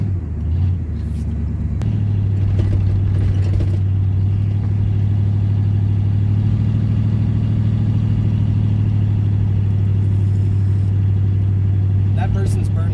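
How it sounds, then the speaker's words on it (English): Car burnout on a road, a continuous loud engine drone with a steady low rumble and revving shifts, close by, with a voice talking over it. "That person's burnout did not go well."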